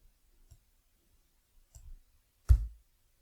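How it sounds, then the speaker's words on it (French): Computer mouse clicks, three sparse clicks with the last one louder, close up in an otherwise quiet room. "Donc je clique sur copier"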